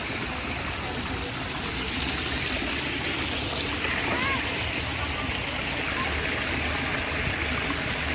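Rainwater rushes like a river through the streets of Bhopal after heavy rain, a dense, continuous roar of flowing water filling the whole scene at close range.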